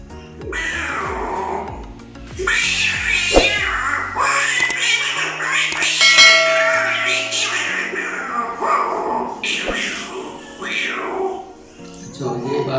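A man vocally imitates a male and female cat fighting, producing drawn-out yowls, wavering growls and sharp screeching cries that rise and fall continuously, loud and close.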